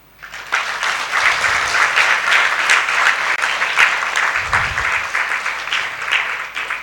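A large congregation at a spiritual satsang gathering claps together in sustained, dense applause. The clapping is loud, steady and continuous, with a couple of low thumps underneath.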